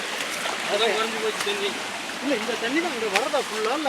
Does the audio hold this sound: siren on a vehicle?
no